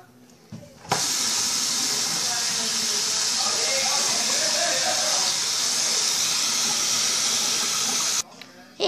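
Tap water gushes steadily into a sink to wash off a dirty bowl, a loud continuous hiss that starts abruptly after a brief knock and cuts off near the end.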